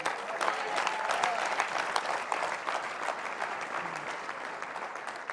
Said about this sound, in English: Clap loud.